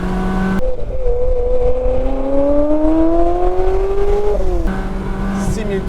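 A Ferrari 360 Spider with a manual gearbox is revved hard, its engine note climbing smoothly and loudly toward high rpm for several seconds, then dropping sharply as the throttle is released.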